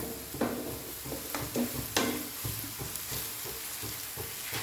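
Ingredients for a vada curry being sautéed and stirred in a pan, with a steady sizzle broken by a few sharp scraping stirs near the start and middle, close and moderately loud.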